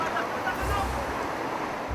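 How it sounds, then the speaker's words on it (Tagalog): Floodwater from the overflowing Baroro River at the Santa Rosa Overflow Bridge in San Juan, La Union, after nonstop monsoon rain; a continuous broad rushing roar with low surging swells, heavy and steady. "Umapaw kasi ang tubig mula sa Baroro River dahil sa walang tigil na pag-ulan"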